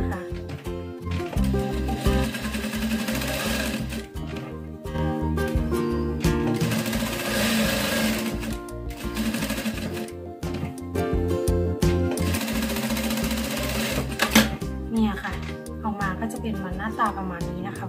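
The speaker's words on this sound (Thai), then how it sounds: "เพื่อนๆก็มาเย็บล็อกตัวนี้นะคะ" An overlock sewing machine runs steadily, locking the seam of a lined shirt collar. Its fast whirring stitching continues for most of the stretch beneath a dense, tonal background, pausing briefly a few times.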